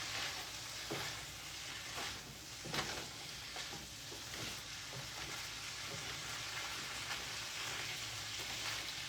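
Turmeric-seasoned Malaysian chicken and green beans stir-frying in a pan, a continuous close sizzle with intermittent scraping and tossing as the food is mixed.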